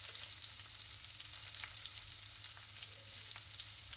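Onions sizzle in hot oil with mustard seeds, a quiet, steady crackling fry with occasional sharper pops, heard close and alone.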